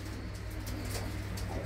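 Pigeons in a loft in a Punjabi village near Amritsar, with soft low cooing held under a constant ambient hum, close and continuous without speech.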